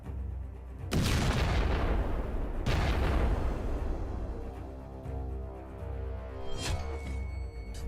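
Two heavy booming blasts about two seconds apart from drone strikes at sea, each decaying into a long rumbling roar, followed by continued low rumble and distant crackling.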